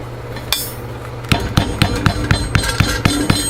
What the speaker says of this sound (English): Take the auto body hammer, without the knife in the sheath, of course.